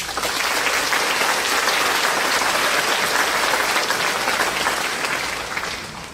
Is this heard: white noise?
no